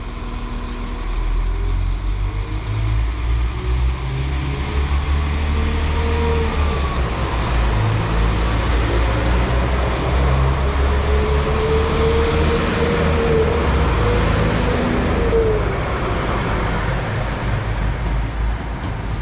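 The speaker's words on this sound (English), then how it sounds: "here at Marple now, departing out is 195 125 on the 1643 to New Mill Central" A Class 195 diesel passenger train pulls out of Marple station in Greater Manchester, giving a steady, loud engine drone and rumble with rising tonal whine and rail noise throughout, heard alone without talk.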